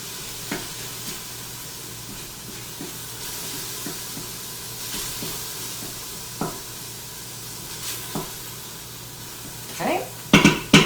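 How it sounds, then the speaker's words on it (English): Ground meat frying in a pan for pumpkin chili, broken into crumbles: a steady sizzle runs throughout, with occasional scrapes and taps of a utensil against the pan and a louder clatter at the end. "I'm just going to break up the chunks that might still be in the meat here."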